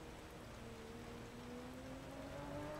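In-cockpit rain from a racing video game, rFactor 2 or Project CARS 2, a faint steady patter of rain on the car with a low engine drone rising slowly beneath it.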